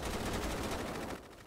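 A rapid, continuous burst of automatic gunfire rattles in a GTA roleplay police standoff. The shots form a dense, loud stream and then cut off sharply.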